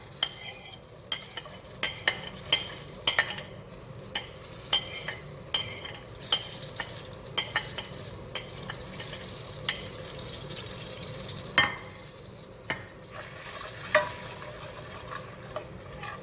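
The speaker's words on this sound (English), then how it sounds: "I'm going to go ahead and add my shallots and my garlic to the pot" Shallots and garlic sizzle gently in a pot as a spoon stirs them, with a soft, steady fry punctuated by frequent close scraping clicks against the pot and no talking.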